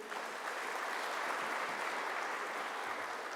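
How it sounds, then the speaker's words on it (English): An audience applauds at a mayor's state of the community address, giving a steady, dense round of clapping from a large crowd that holds evenly for a few seconds with no talk. "Let's give a hand clap for that as well, will you?"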